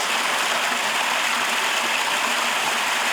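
A waterfall in Black Canyon, heard as a loud, steady broadband rush of falling water, close and continuous, with no voices.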